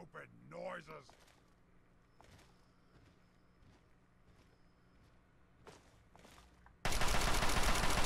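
Gunfire in the video game Fallout 3, several sharp shots scattered through the clip over a low game ambience, ending in a loud burst of noise, with a voice shouting near the start.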